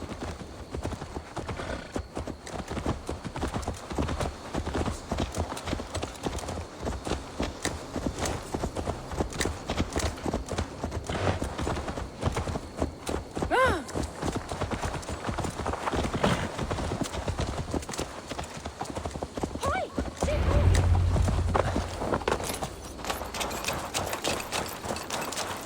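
Horse hooves clip-clop steadily and continuously in Assassin's Creed Valhalla, with a brief snort or whinny near the end and faint background ambience.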